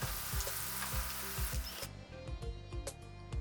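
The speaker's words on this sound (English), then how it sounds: "I'm just gonna fry everything until it's really nice and fragrant." Onions and garlic fry in butter in a pan for a Nigerian spinach stir fry, giving a loud, close, steady sizzle broken by repeated scraping and stirring clatters from the utensil.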